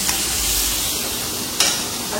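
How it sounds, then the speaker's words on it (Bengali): Paneer pieces fry in ghee with a little salt, giving a steady close sizzle with a stirring scrape partway through and no talk. "পনিরের টুকরোগুলোকে ঘিতে ফ্রাই করছি সামান্য লবণ দিয়ে"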